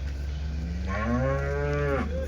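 Cows mooing at the Sunday cattle market in Chintamani, where HF and Jersey cows and calves are sold, with one long, loud, low moo rising and falling against steady market background noise.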